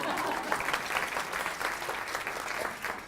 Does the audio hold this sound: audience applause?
yes